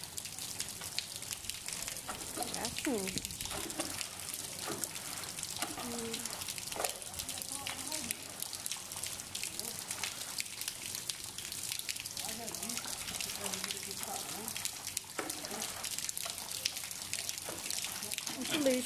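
Floodwater gushes and trickles steadily through a flooded street in Barra do Ceará during rain, a continuous watery rush with scattered drips, while someone talks over it.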